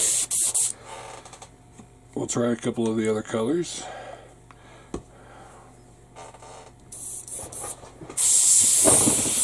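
An airbrush sprays black paint thinned with AK Real Colors thinner, a hissing spray starting and stopping in short bursts, ending in a long loud blast, with someone talking in between.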